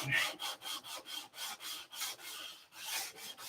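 Rhythmic hand sanding with fine 320-grit sandpaper, about eleven quick back-and-forth rasping strokes, close and steady, no voices.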